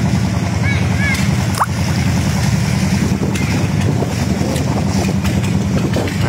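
A tour boat cruises along the Kelayan River in Banjarmasin, its motor a steady low drone under wind buffeting the microphone. Faint water sounds and a few distant calls come through.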